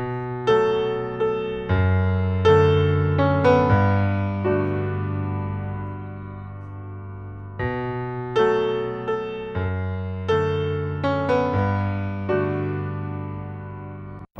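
A mixed music track passed through a vintage 1960s-style saturation plugin, adding warm low-mid harmonic color: sustained tonal chords and struck notes ring out and decay in two similar phrases separated by a brief pause, with no voices.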